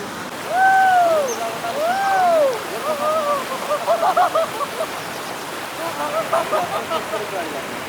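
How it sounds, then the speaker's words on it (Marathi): A strongly flowing river in the Konkan hills after rain gives a steady broadband rush close by, with swooping whistle-like tones and brief splashy bursts rising over it in the second half. "पाण्याला एवढी वाहताली आहे ना"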